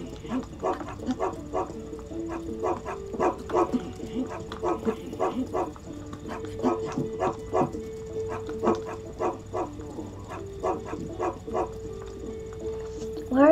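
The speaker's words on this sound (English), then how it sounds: "Come back here, doggy." Repeated barking from a dog in Zelda: Breath of the Wild, a steady run of sharp, fairly close yaps over a sustained game music tone, with someone talking now and then.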